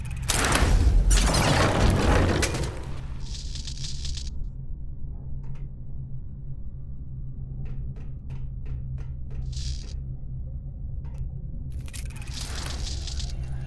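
In the video game Verne: The Shape of Fantasy, a heavy boom opens with a loud rumbling blast that fades after about two seconds. Quieter mechanical clicks, hisses and a low steady hum follow.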